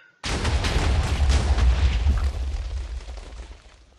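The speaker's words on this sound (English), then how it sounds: "As you can see, it made quite an explosion." A massive explosion from fuel rods in the Omega Craft video game erupts suddenly, a loud deep boom with crackling debris that rumbles on and slowly fades over several seconds.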